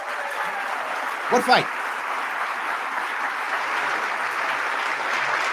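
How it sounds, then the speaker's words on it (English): Audience applause at Governor Hochul's inauguration rolls on as a steady, dense wash of clapping, with a man's brief spoken remark over it. "I get why they're clapping."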